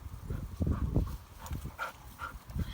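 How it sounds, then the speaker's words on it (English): Dog trotting closer along a village road, with patters and rustles of movement, a couple of brief sharper sounds and a soft bark-like burst, fairly near and at moderate level. "You could hear Scout coming to have a look"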